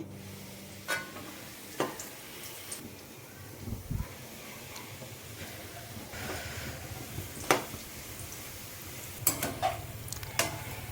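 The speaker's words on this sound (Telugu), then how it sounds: "ఇప్పుడు ఇదే బాండీలోకి బ్రెడ్ స్లైసెస్ వేసి మీడియం ఫ్లేమ్లో పెట్టుకొని వేపుకోవాలండి." Bread slices frying in a bandi (wok) with ghee over a medium flame for bread halwa. Steady low sizzle runs throughout, broken by scattered scraping and stirring clatters, with a few sharper metallic taps near the end.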